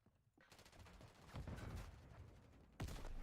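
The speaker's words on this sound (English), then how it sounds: "I'm taking fire." Gunfire in a first-person shooter video game, with rapid bursts of automatic shots arriving in waves and a sharp loud burst near the end, no talk over it.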